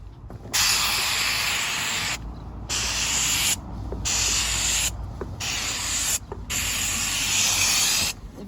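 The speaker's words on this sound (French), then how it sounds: "Je passe la vapeur, je lâche, je passe la vapeur." A steam cleaner fitted with a large triangular brush working a car seat of leather and fabric, loud bursts of hissing steam switching on and off in a regular rhythm with brief silent gaps, no talking.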